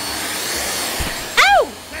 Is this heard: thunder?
no